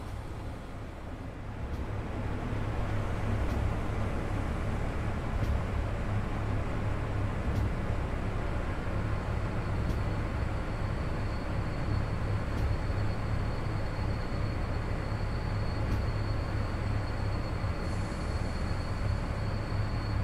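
Train running in the MaSzyna train simulator, EP07 locomotive with 8 wagons on the Lublin–Chełm line, a steady droning rumble with low engine hum that holds constant throughout.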